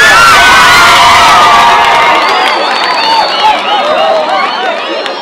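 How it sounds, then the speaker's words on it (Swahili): Secondary school students burst into loud, close cheering and high ululation, a roaring crowd of young voices with applause mixed in, the shrill trills wavering above the din before easing slightly toward the end. "Haya, pigeni makofi na vigelegele sana"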